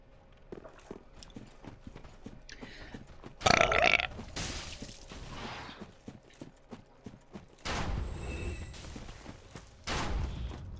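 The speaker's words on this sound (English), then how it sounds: "they want burps" Several deep, guttural burps from a woman come in separate bursts across the stretch, loud and close, with quieter rumbling noise between them.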